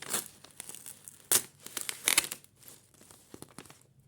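A small paper packet from a calendar is torn open at its notch: paper crinkles and tears in short bursts, with a few sharper rips amid quieter rustling, close and fairly soft.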